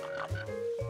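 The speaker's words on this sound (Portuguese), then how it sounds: "Você podia ouvir os sapos coaxando." Frogs croak in steady, resonant bursts, several calls overlapping close by with no one talking.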